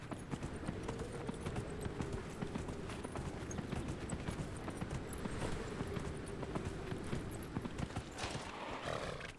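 Horse hooves clip-clop at a steady walking rhythm in the video game Dragon Age Inquisition, fairly quiet and continuous, with faint game ambience behind.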